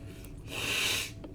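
A single wet sniffle, a short breathy inhale through the nose, close and moderately loud against a quiet background.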